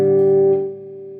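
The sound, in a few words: electric guitar playing through dry amp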